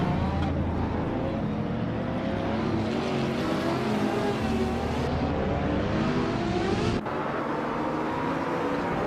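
Race cars roaring through a racing video game just after the start, a dense continuous engine drone with layered revving tones and one brief cut near the end.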